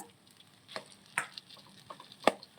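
A spoon stirring mashed potato and carrot into curry gravy in a pan, with soft wet scraping and a few sharper clinks against the metal, quiet and sparse, with no voices.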